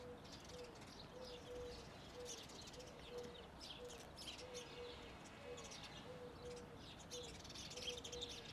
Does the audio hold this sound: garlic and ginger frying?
no